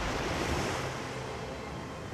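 Strong wind whipping across a cliff face during a climbing accident, a loud broadband roar with gusty buffeting, constant and close to the microphone, no speech.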